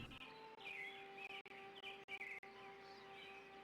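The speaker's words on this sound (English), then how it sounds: "you're gonna just hear audio of birds chirping and whatnot" Birds chirp in the retro DOS-era video game Harvester, their short bright calls repeating in small clusters over a faint steady background hum, moderately close and uninterrupted by talk.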